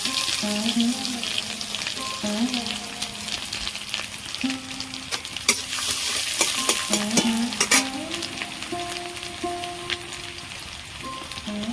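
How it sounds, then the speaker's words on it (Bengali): Dried chillies, panch phoron, torn green chillies and ginger paste fry in hot oil with a continuous close sizzle and crackle, broken by occasional stirring clatter, with no talk. "ওই তেলের মধ্যে আমি দুটো শুকনো লঙ্কা পাঁচ ফোড়ন দিয়ে দেবো দুটো ছেঁড়া কাঁচা লঙ্কা আদা বাটা দেবো"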